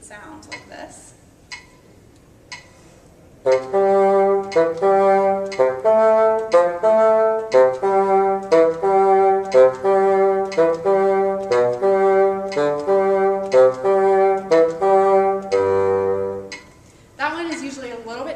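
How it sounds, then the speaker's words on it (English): A bassoon plays a sixteenth–dotted eighth rhythm, quick short-long note pairs in a steady pattern over a metronome, starting after a short quiet lead-in and closing on a low held note. "we can reverse it, so we have 16th dotted 8th"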